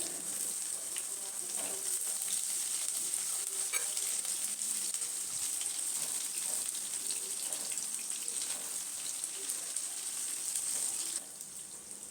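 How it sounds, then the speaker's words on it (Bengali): Chopped garlic frying in hot oil while being stirred for a Bengali posto chicken dish, a loud continuous close-up sizzle with occasional utensil scrapes, the hiss dropping slightly near the end. "কুচনো রসুনটা দিয়ে দিলাম রসুনটা একটু ভেজে নেব তেলের মধ্যে"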